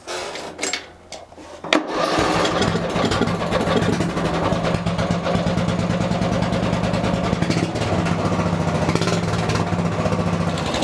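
The motor of an off-road lawn mower with a swapped engine runs during warm-up laps while its carburetor is still being adjusted. A few rough sputters give way to a loud, steady, close engine drone that holds for the rest of the clip.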